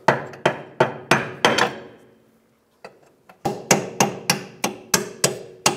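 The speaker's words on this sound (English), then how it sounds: "I'm gonna hammer the control arm up a little bit" Sharp metal-on-metal hammer blows on a rear upper control arm of a 2012-2020 Ford Focus, struck in quick bursts, a steady run of strikes, then a pause and another series of loud, evenly spaced hits.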